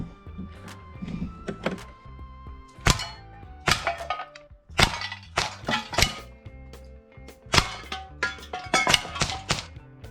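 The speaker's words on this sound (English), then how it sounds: "We're just going to shoot it to the metal." Crosman 1077 CO2 air rifle fired in a garden at a metal target, giving a string of sharp cracks and metallic clanks at irregular intervals, fairly close and with no talk.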